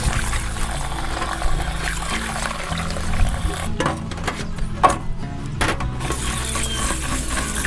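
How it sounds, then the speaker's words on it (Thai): Tap water runs steadily over salted mustard greens being rinsed by hand, a constant close rushing splash with occasional knocks and wet handling sounds. "ทีนี้ก็ทำการเปิดน้ำล้างได้เลย ล้างสักสองครั้งนะครับ"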